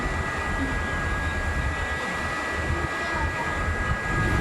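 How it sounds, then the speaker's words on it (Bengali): Steady, dense rumble and rattle inside a moving passenger train, loud and continuous throughout with no talking. "আমরা এখন ট্রেনে"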